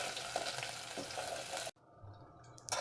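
Onion dropped into hot oil already sizzling with crushed garlic and ginger, cooking for a mutton dish: a dense, loud frying hiss that cuts out abruptly partway through, then returns softer with a fresh burst of sizzle at the end.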